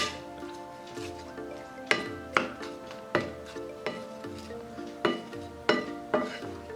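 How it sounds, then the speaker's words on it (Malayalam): Spoon repeatedly stirring a pan of green chilli and curd curry, producing a steady series of sharp scraping strokes against the pot about every half second, close and clear with no talk. "ഇനി ഇത് നമുക്ക് നന്നായിട്ടൊന്ന് ഇളക്കി കൊടുക്കാം."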